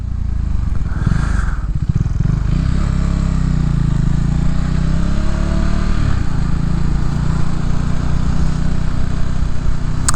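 Motorcycle coasting downhill at about 20 mph with the throttle closed and the rear brake held, riding through a small Midwest town; a steady, close engine and road rumble with some clatter runs evenly throughout.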